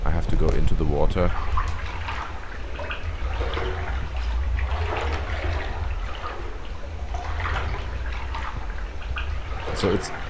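Water splashes and churns continuously as a character wades through a flooded area in The Complex, a Backrooms horror game, with a low rumbling drone underneath and a person talking over it.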